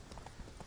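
Horse hooves clip-clop in The Witcher 3, a quick run of soft, even hoofbeats under a dense game soundscape, fairly faint and brief.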